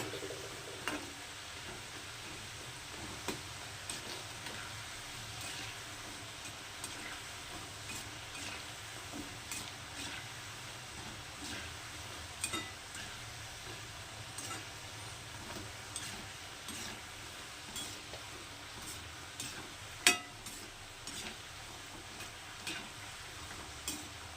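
Nimki dough pieces deep frying in hot oil in a home kitchen give a steady, even sizzle for the whole stretch, dotted with small crackles and sharper pops. Nobody speaks.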